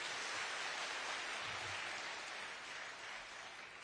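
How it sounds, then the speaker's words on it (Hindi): Audience at a Chhattisgarh government farmers' event applauding, a steady broadband rush of many hands clapping, fairly distant and even, tapering slightly toward the end. "ताली मारो थोड़ा जोरदार"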